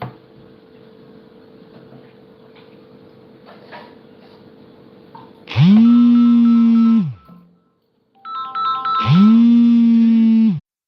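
A phone ringtone plays two loud melodic bursts, each lasting about one and a half seconds, separated by a short pause and rising over a steady low hum in an indoor room.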